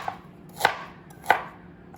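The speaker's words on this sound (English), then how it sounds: "I'm going to be slicing some in a little container here." A knife slicing through fresh ginger on a board, two crisp separate cuts about two-thirds of a second apart, close up, with a faint tap just before and no voices.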